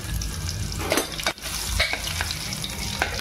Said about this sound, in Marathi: चला तर आपलं तेल गरम झालेलं आहे, तर आपण फोडणी घालूया